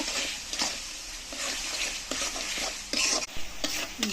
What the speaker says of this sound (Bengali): মশলাগুলো দিয়ে দেব, কষিয়ে নেব।